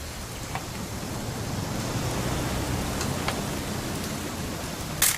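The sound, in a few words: rain in video game What Remains of Edith Finch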